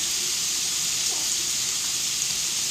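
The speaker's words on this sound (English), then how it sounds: "you can hear my bacon starting to sizzle over there" Bacon sizzles in a pan as an omelette is prepared, a steady bright hiss and crackle heard from a short distance, constant and even throughout with no talking.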